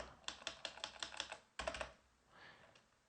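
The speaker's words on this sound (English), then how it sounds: "now I'm gonna go ahead and type in vim" A computer keyboard clatters with quick, evenly spaced keystrokes while a Linux command is typed, a short pause, then another burst of taps, quiet and close.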